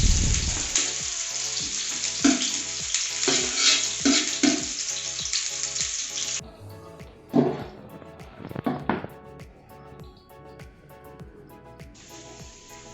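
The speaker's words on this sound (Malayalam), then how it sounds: "അപ്പോൾ പൊരിച്ച ഉള്ളി ഇവിടെ റെഡി ആയിട്ടുണ്ട്." Onions fry in hot oil for Malappuram-style biryani, a loud, close, continuous sizzle that surges and fades as they are stirred, with scraping and clanks of the utensil against the pan and no voices.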